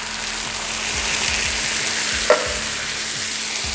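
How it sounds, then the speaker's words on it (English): Canned tomatoes go into onions already frying in a pan for ratatouille, a loud continuous sizzle with a brief bump as they land, then the hiss carries on evenly. "Next, I'm gonna put in my canned tomatoes."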